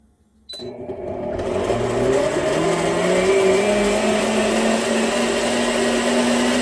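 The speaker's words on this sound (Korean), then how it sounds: "믹서기에 팥을 담고 물을 더 넣어주세요." A kitchen blender grinds red beans with water for sweet red bean porridge, switching on after a brief quiet moment and then running loud, close and steady with a rising motor whine.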